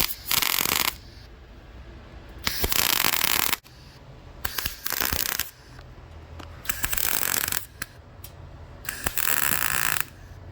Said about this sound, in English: So now I'm just tacking it up just like I did the rest of it.